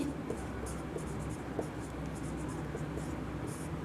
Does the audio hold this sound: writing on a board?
yes